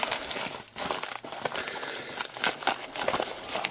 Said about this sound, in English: Just rip that open.